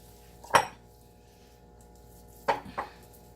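Raw jalapeno cheddar turkey burger patties are set into a pan with three short, quiet clinks and knocks, one alone and then a close pair, over a faint background hum.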